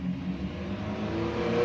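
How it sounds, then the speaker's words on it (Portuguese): A car passes outside the house with a broad, rising engine rumble that grows slightly louder across the short stretch, heard alone with no talk. "o carro tá passando aí, fazendo barulho"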